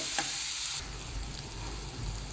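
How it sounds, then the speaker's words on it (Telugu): Onions frying in a pan for a small-fish curry, a soft continuous sizzle and crackle, close and fairly quiet, with a brief clatter early on before the hiss settles. "ఇప్పుడు మనము మూత పెట్టుకొని కొంచెం వేగనిద్దామండి ఉల్లిపాయల్ని"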